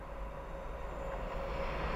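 Faint, steady rumble of a pair of London Northwestern Railway Class 350 electric trains passing on the West Coast Main Line at Linslade, a continuous low drone with a thin whine above it, heard from a distance.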